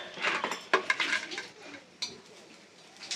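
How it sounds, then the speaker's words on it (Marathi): Dry coconut roasting in a griddle over a gas flame, with light metallic scrapes and clinks of a spatula stirring against the pan, close and fairly quiet, in short bursts before fading to a soft hiss. "गॅसवर मी तवा ठेवला आहे आणि त्यामध्ये पहिलं सगळ्यात पहिलं खोबरं भाजून घेते सुकं खोबरं"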